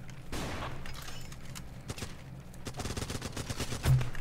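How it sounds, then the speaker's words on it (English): Gunfire and a grenade explosion in a large-scale war video game, a dense burst of shots with a heavier thump near the end, loud and continuous. "Oh, that's a grenade."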